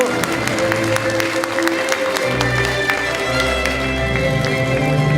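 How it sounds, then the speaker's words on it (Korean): Applause for candidates at a Korean party preliminary election rally, a dense steady patter of clapping from a large audience lasting throughout, with low crowd rumble and music underneath. "후보자 여러분께 뜨거운 성원의 박수 부탁드립니다."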